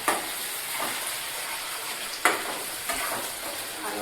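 Onion sautéing in a pan for homemade pasta, a steady close sizzle with occasional stirring scrapes and a sharp utensil knock, no talking.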